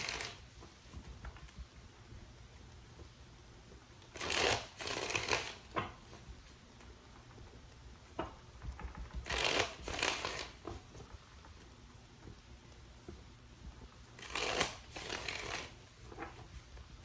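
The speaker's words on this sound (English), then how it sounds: "More shuffles for Pisces person." Tarot cards being shuffled in three short riffling bursts spaced several seconds apart, close and fairly quiet against a soft background.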